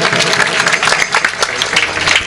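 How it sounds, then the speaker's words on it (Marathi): Loud, sustained applause from an audience at a devotional kirtan gathering, dense clapping filling the space without a break. "सर्वांनी एकदा जोरदार टाळ्या वाजवा त्याच्यासाठी"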